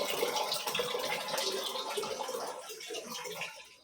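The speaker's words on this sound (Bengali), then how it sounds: "স্পিড কম, দেখতেই পাচ্ছ জল পুরো ভর্তিই হচ্ছে না" Water runs slowly from a tap into a container during a Bengali New Year temple visit, a soft continuous trickle and splash, faint and steady, easing off toward the end.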